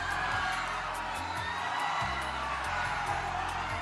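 Studio audience on The Price is Right game show, a continuous roar of cheering and whooping that stays loud and steady, with a low musical cue beneath.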